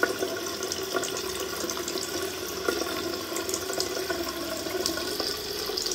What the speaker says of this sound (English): that was me washing my face